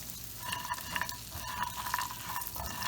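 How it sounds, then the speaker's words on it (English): Butter melting in a pan with toasted pecans, giving a steady close sizzle and frying crackle with light stirring scrapes throughout. "I'm going to add about 2 tablespoons of butter and just melt that in"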